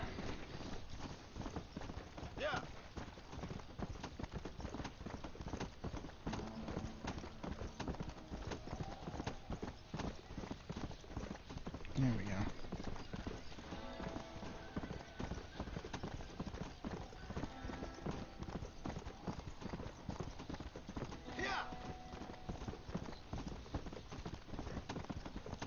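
Zombie horse hooves from Red Dead Redemption: Undead Nightmare, a continuous galloping clip-clop throughout with occasional faint snorts and whinnies mixed in, steady and fairly close, with game ambience underneath.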